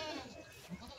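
Young male goat kids (bucklings) give short, faint bleats close by, one brief cry standing out over quiet background noise.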